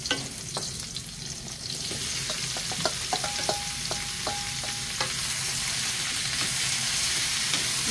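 Steady loud sizzle of sautéing in a frying pan, with scattered spatula taps and scrapes against the pan near the start, continuous and close with no talk.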